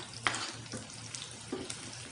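Garlic and onions fry in a pan with a low steady sizzle, broken by a few light clicks and scrapes of stirring, with no voices.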